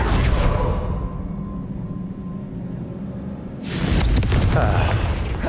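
A Confringo fire spell blasts in Hogwarts Legacy: a loud, deep boom bursts in about two-thirds through and rumbles to the end, over a low ambient game drone.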